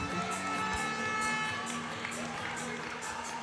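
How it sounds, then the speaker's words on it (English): A crowd at a women's volleyball division final claps steadily after a dig, with a broad wash of applause and crowd noise continuing throughout, blended under a commentator's voice. "The crowd appreciating the sacrifice and effort"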